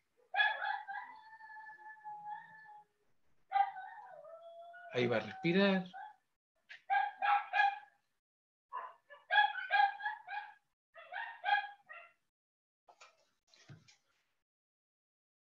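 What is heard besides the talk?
small pet dog whimpering and barking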